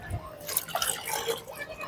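Liquid fertilizer made from vegetable waste water is poured from a mug in a home garden, giving a brief, faint splashing trickle.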